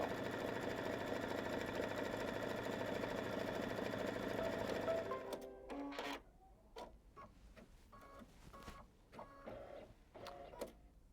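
Home sewing machine stitching a quilt block, a steady dense mechanical whir running loud and close for about five seconds, then stopping and leaving scattered small clicks and taps.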